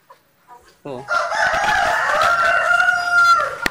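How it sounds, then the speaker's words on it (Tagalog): After a few short clucks, a native rooster crows loudly and close by in one long drawn-out call, with other free-range fowl sounds mixed in. "Free range po ng ating native chicken doon sa kabila."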